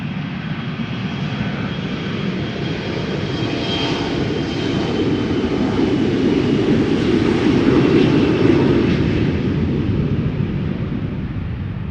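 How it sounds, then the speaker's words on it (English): A KLM Embraer 175 jet airliner passes at Schiphol Airport with a steady, loud engine roar that builds gently and holds throughout, with no voices. "KLM Flight 1085 Embraer 175 going to Cork in Ireland"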